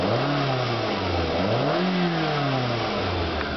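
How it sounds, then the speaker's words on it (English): A stock 2008 Scion xB engine revving up and down close by, its pitch rising and falling in repeated swells over a rough, steady rumble. "we can listen to the engine for a second"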